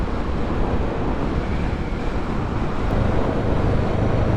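Strong wind buffets the microphone in a continuous low roar while motorcycle touring in Western Australia, loud and close, with no voices.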